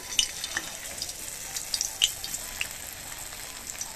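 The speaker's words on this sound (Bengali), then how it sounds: "এই দেখুন মোচার রিং পিস গুলো ছেড়ে দেবো আস্তে আস্তে।" Banana flower rings slipped into hot oil, frying with a soft, steady sizzle and scattered crackles and pops throughout, close by, no talking.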